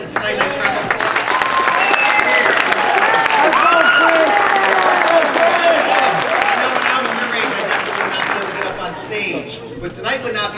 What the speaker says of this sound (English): let's give all of our contestants tonight a nice round of applause